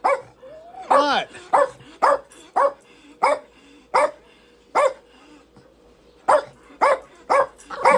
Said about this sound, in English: You get that barking out of your system.